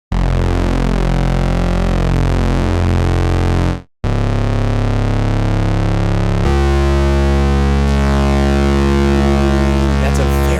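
Analog Film Bass synth patch with very slow modulation, sustained loud tones shifting gradually over time, a brief drop to silence near four seconds, then a fresh note holding steady alone.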